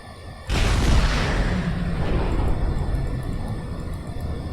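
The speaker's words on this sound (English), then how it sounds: "so it looks like there is in fact a functional Mac cannon here" A MAC cannon on a Paris-class frigate in Space Engineers fires one sudden heavy boom that rolls on as a long, loud rumbling roar and slowly fades.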